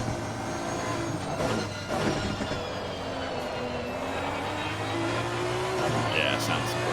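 Onboard V12 Aston Martin GT race car in a sim racing game at Bathurst, a steady engine drone with shifting pitch sweeps, moderately loud and continuous, with commentators talking over it.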